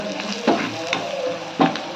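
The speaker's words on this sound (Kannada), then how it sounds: "ಒಗ್ಗರಣೆ ಆದಮೇಲೆ ಅದಕ್ಕೆ ಸ್ವಲ್ಪ ಚಿಟಿಕೆಯಷ್ಟು ಅರಿಶಿನ ಹಾಕ್ಕೊಂಡು ಮಿಕ್ಸ್ ಮಾಡ್ಕೊಳ್ಳಿ." A South Indian tempering sizzling in oil for radish chutney as a pinch of turmeric is mixed in, heard as a close, bright crackle with two or three quick stirring scrapes.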